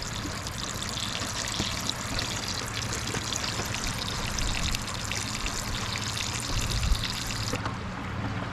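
Water rushes and trickles steadily through a self-priming water filter pump at a riverside camp, a constant broadband wash that runs unbroken and close throughout.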